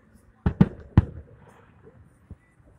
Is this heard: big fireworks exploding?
yes